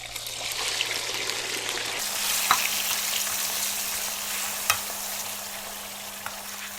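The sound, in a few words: chicken frying in oil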